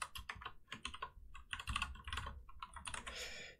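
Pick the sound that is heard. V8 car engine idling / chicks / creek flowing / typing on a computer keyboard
typing on a computer keyboard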